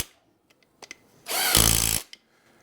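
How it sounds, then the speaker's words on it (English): A small 12-volt impact driver runs in one short burst of about 0.7 seconds, driving bolts on a starter motor, with a few faint clicks and taps of handling before and after. "I'm just going to use the little 12-volt impact here."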